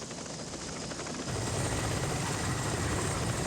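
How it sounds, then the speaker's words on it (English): Military helicopters in flight during the Vietnam War, a dense, steady rotor and engine roar that swells louder after the first second and stays constant. "The greatest need was for more helicopters, and the Americans quickly provided them."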